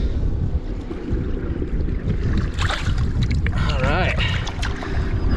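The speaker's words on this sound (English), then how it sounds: "I have no idea if you guys can even hear me in this wind" Strong wind gusts across the microphone in a boat out fishing on the water near Crystal River, Florida, a constant roaring rush throughout, while someone speaks over it.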